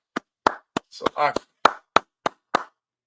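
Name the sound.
congregation clapping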